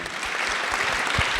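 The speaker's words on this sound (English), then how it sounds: "Round of applause, please." A room full of people at a youth forum on transforming education, held at UNESCO headquarters, breaks into steady, dense applause that fills the short moment on its own.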